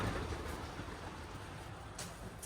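An old passenger train rolls along rails on a long-distance journey, giving a steady, fairly quiet rumble with faint clattering throughout and no voices.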